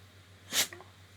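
One quick, sharp sneeze from a dog, faint and close, followed by a small snort against a low steady hum.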